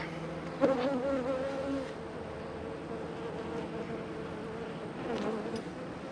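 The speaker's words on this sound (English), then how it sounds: "taking them out and shaking all the bees out in the grass" Honey bees buzzing steadily around a hive outdoors in winter, a constant low drone with a few louder passes close by, no voices.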